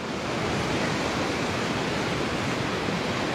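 Steady, dense roar of surf washing along a shore, constant and broadband with no distinct breaks, close and fairly loud.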